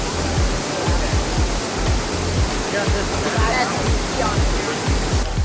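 A waterfall in Bali pours in a steady, loud roar of rushing water, with low rhythmic thumps running beneath the continuous wash and no clear talk.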